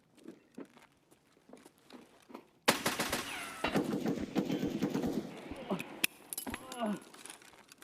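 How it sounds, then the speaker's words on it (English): Loud shotgun blasts and gunfire in the Escape from Tarkov video game break in abruptly after quieter footsteps and rattling, then continue amid clatter and sharp reports, with voices talking throughout. "oh, they got shotgunned."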